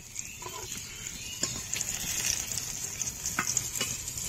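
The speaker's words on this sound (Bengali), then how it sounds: "বেগুনগুলো একদম লাল লাল করে ভেজে নিয়েছি" Eggplant slices fry in oil with a soft, steady sizzle, broken by a few light clicks and scrapes of a utensil.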